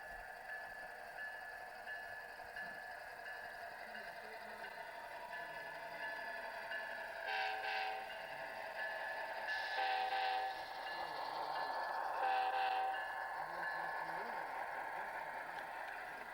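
A model Amtrak passenger train rumbles steadily on a layout track, with a few short horn blasts sounding partway through as it pulls away from a station.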